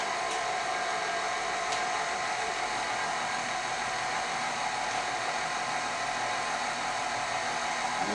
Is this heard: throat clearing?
no